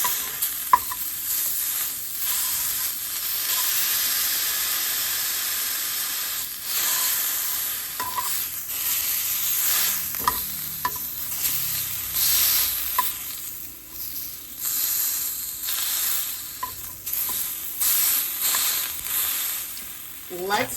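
A pork chop sizzles steadily while frying in a pan, a bright continuous hiss with occasional pops and clinks of utensils, close and fairly loud.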